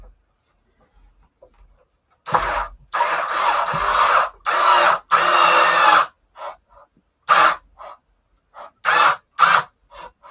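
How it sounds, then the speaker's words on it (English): A cordless drill whirs close by in several runs: a few longer bursts of a second or so, then shorter stop-start pulses separated by silence. "since I'm talking about said cordless drill, let's use said cordless drill"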